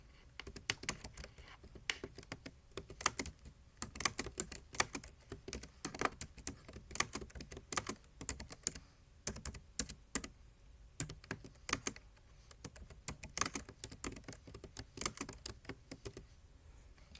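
Computer keyboard typing in an indoor setting, uneven bursts of close, crisp key clicks with short pauses between runs, fairly quiet and with no talking.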